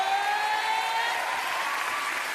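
A comedy club audience applauds and cheers, a dense, loud wash of clapping that holds steady throughout, with faint whistles over it.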